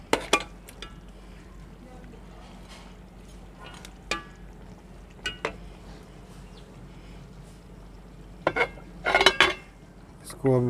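White beef korma is served out of a cooking pot with a few scattered clinks and scrapes of a metal spoon against the pot and dishes, including a louder clatter near the end, over a low steady background hum.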